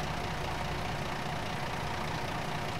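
A truck engine idling in the driving game American Truck Simulator, a steady, even low rumble with no change across its short length and no talk over it.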